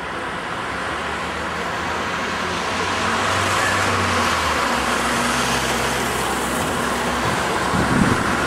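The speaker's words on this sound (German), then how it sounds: "Während der Verkehr hier, wie ihr gleich wieder sehen könnt, ungehindert weiterfließt." Steady road traffic flows past the East Side Gallery in Berlin, a continuous broad roadway rumble of cars and heavier vehicles with low engine drones swelling and fading as they pass, heard at moderate distance with no talk.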